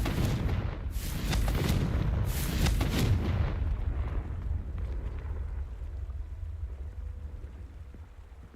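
Booming blasts of the Confringo fire spell from the video game Hogwarts Legacy, several loud bursts in the first few seconds that then fade into a low rumbling game backdrop, with no talking.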